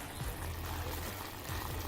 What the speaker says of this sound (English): this water is actually boiling right now